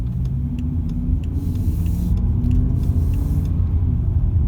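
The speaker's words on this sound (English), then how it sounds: "automatic mode, pulling away 1st gear, 3rd setting." A BMW M5 with an SMG III gearbox in automatic mode pulls away in first gear, a steady loud low engine rumble continuing throughout with faint clicks above it.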